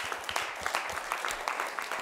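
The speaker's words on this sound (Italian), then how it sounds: "facciamo un grande applauso" An audience applauds the children at a show, scattered close-up claps over about two seconds, moderately quiet and fairly even.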